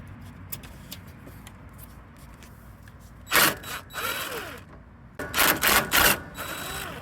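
A ratchet with a 10mm socket works a bolt on an old Craftsman riding mower, giving two bursts of rapid clicking separated by a quiet pause, close up and fairly loud over faint background noise.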